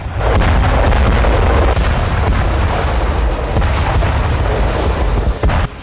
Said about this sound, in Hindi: रूसी एयरफोर्स ने यूक्रेन पर 24 घंटे में 33 एयर स्ट्राइक किए